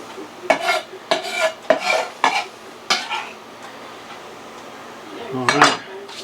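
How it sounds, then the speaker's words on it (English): A whisk beating carne asada marinade with cilantro in a bowl, giving a string of close, rhythmic metallic strokes in short bursts, then a pause and a final louder scrape. "let me go ahead and whisk this up a little bit"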